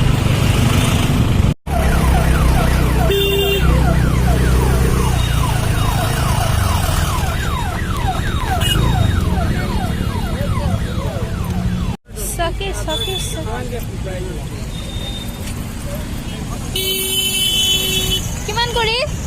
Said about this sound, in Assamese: চ' এম্বুলেন্সখন আগত যাব দিবচোন